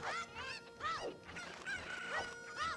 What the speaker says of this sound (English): I want to finish up these chickens quickly before I lose the prompt for Navi